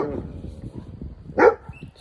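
A single sharp dog bark rings out nearby, surrounded by quieter low rustling and faint murmuring sounds.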